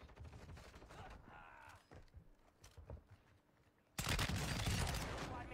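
Shotgun fire in a shooter video game, a loud sudden blast that sustains into dense gunfire noise after scattered quieter in-game clatter and footsteps, with faint voices underneath.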